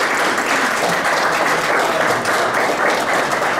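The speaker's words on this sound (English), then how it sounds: "So let's give them a quick round of applause, please." Audience applause fills a hall at a college signing event, a dense steady clapping that runs loud and unbroken from start to finish.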